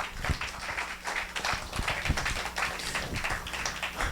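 A church congregation claps steadily together, a dense patter of applause that keeps going throughout.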